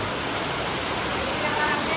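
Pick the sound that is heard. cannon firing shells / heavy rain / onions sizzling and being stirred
heavy rain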